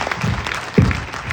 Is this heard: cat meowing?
no